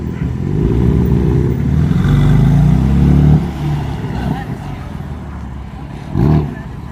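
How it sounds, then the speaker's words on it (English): Two BMW M4 convertibles roll in at an open-shop cars and coffee meet, a steady low engine rumble with brief revving that swells and fades nearby, with people talking over it. "we have 2 M4 convertible rolling in"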